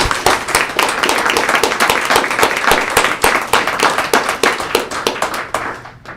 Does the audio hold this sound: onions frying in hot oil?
no